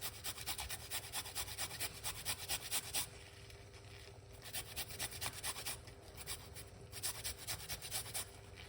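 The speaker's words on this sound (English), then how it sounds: "right here we have a piece of a garlic, piece of a turmeric, fresh turmeric. Grate it." Fresh garlic and fresh turmeric root are rubbed against a grater in quick, rhythmic rasping strokes, close and fairly quiet, with a short pause before the grating resumes.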